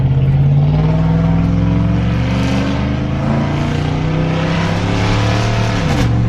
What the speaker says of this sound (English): this car is straight piped because it's a V8